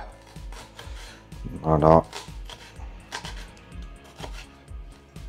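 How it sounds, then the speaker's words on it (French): A knife chops a shallot finely on a cutting board, a run of quick, light taps repeating close by, with a short stretch of speech partway through. "Ensuite, échalote qu'on va hacher."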